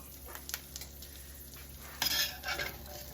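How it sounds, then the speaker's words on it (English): Asparagus spears are rolled around in a hot skillet: faint scraping and light clinking against the pan with a soft sizzle, rising to a louder brief scrape near the end. "So I'm going to pop it into this skillet and just roll it around a little bit."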